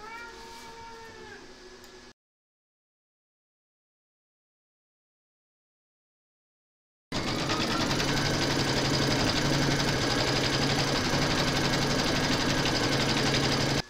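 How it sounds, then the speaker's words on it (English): An embroidery machine stitching the red first round of a free-standing lace poppy, its steady rapid mechanical whir running loud and continuous after a silent gap, with a brief earlier snippet of other sound. "we're going to stitch round number one"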